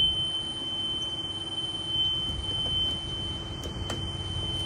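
A school bus buzzer sounds during a California pre-trip inspection, a steady high tone holding throughout, with faint background rumble and no talking.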